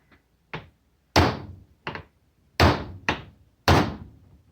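A control arm bushing for a 1990 Toyota SR5 truck is pressed into place in a cheap Harbor Freight vise, giving six sharp metallic knocks. The last blows are heavier and ring differently as it bottoms out.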